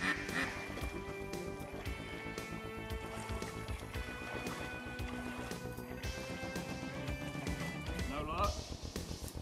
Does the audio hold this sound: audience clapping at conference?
no